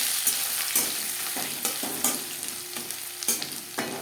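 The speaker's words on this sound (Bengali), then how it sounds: "লঙ্কার সাথে কালো জিরে ভেজে নেওয়ার পর দিয়ে দেবো রসুন" Crushed garlic hitting hot oil with chillies and black cumin in a pan for Bengali kochu shak, sizzling steadily close by, broken by several sharp clinks and scrapes from a spoon stirring.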